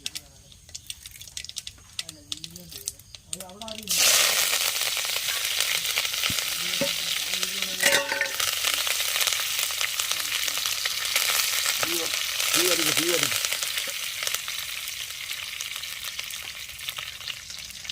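Mustard seeds and curry leaves frying in hot oil: quiet at first with a few voiced sounds, then an abrupt loud, crackling sizzle that continues steadily, with brief talking over it.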